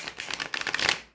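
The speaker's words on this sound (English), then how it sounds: "Let me do a quick shuffle so you can see how this deck works in action" A tarot deck is shuffled close up in one quick riffle, a dense rapid flutter of cards that builds to a crisp peak and then stops, quiet and alone.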